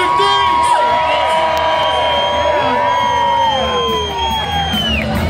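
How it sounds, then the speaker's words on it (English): Crowd at a St. Patrick's Day street parade in Delray Beach screaming and cheering loudly and continuously, with whoops and shrill children's shouts rising over a dense, sustained roar close by. "you guys scream"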